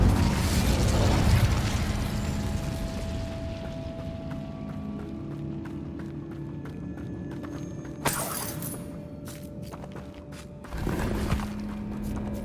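Incendio fire spell cast in Hogwarts Legacy, a roaring burst of flame with crackling and sharp impacts over a steady noisy game soundscape, followed by a second whooshing burst near the end.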